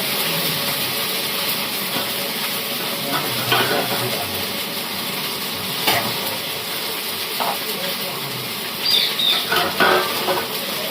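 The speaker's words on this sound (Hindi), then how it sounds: "आप इधर दूध चढ़ा हुआ है और एक तरफ भुंजिया चढ़ा दिए ताकि सब जल्दी हो" Bhunjia vegetables frying in a pan on a home stove, with a steady sizzle and occasional stirring scrapes and clinks throughout, no talk.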